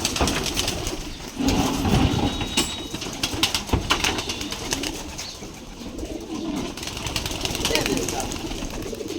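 Giribaz pigeons at a pigeon farm coo softly amid wing flaps and scraping, with people talking over the birds throughout.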